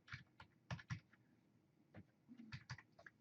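Someone types on a computer keyboard while setting up a PHP page, producing close, quiet, irregular key clicks in short bursts with brief pauses.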